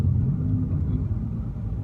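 A 2016 Nissan GT-R rolling over a very light speed bump, its low engine and road rumble steady and close throughout, with no distinct jolt standing out.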